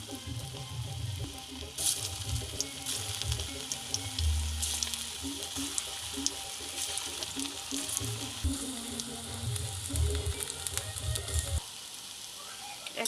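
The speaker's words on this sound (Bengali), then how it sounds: "তেলটা গরম হয়ে গেছে আমি এক এক করে সব দিয়ে দিচ্ছি" Raw banana kofta balls frying in hot oil, a continuous bubbling sizzle with small pops and occasional clatter, close and moderately loud, easing toward the end.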